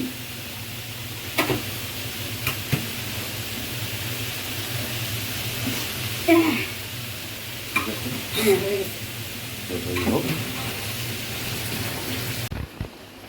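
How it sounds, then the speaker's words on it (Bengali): Egg and papaya fry in a pan, a continuous low sizzle broken by occasional sharp scrapes and stirring clatter, with people talking in the background. "ডিম পেঁপে ভাজিতে বসিয়ে দিলাম"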